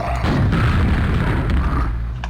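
A monster head gibbed by a gunshot in a first-person shooter game: a loud, booming burst with a dense low rumble that holds steady, then trails off near the end.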